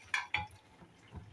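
Potatoes tipped into a pot of simmering dried-fish curry make two quick soft clattering thuds close by, followed by faint stirring and gentle bubbling.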